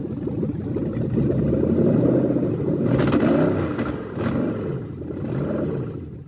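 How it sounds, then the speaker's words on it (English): A new engine in a 1979 Trans Am runs steadily nearby, rising and falling as it revs a few times, with a rough, rumbling idle between the revs. "We did a test run on the engine."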